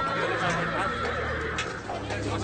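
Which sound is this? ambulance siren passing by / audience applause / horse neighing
horse neighing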